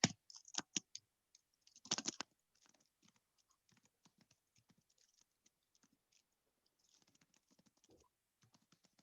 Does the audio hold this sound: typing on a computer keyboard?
yes